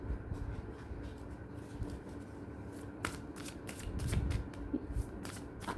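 Oracle cards being shuffled by hand, a soft series of riffling, flicking card sounds repeating in quick bursts, fairly quiet and close with no talking.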